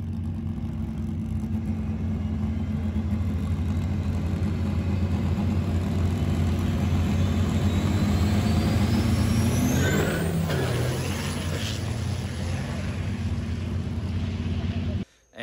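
A VP44 Cummins diesel truck making a drag racing pass, a loud sustained engine roar heard from a distance that builds and then changes pitch partway through before cutting off abruptly at the end.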